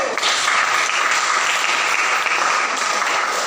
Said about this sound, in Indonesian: silakan kembali tepuk tangan buat kelompok satu